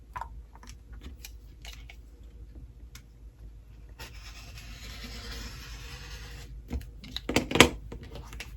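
Scissors cutting a fabric strip for sewing, scattered snips early on, then a longer continuous rasping cut and a louder snip near the end, close and quiet.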